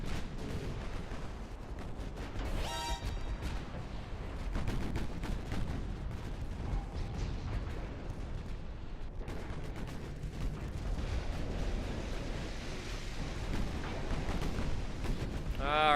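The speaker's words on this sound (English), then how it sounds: "It's just the raw amount of firepower that we can spit out from our battleships." Battleship main guns firing in a naval warfare game, with repeated heavy booms and rumbling salvos over sixteen seconds, loud and close, while someone talks over the barrage.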